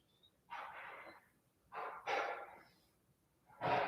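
Deep, slow breaths during a morning yoga flow, several distinct airy inhales and exhales close to the microphone, separated by quiet pauses, with no talking.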